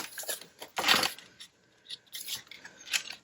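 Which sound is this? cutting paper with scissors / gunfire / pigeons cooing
cutting paper with scissors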